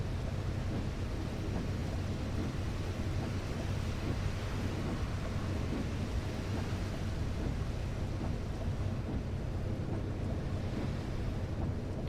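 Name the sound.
rain in Fernbus Coach Simulator video game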